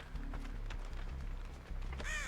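Video-game crow caws, one harsh call at the end rising over steady game background noise, loud and close.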